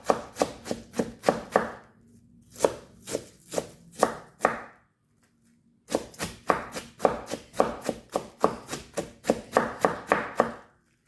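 A knife chops through half a head of cabbage on a board in quick, close, crisp strokes, grouped in bursts separated by short pauses and one longer gap.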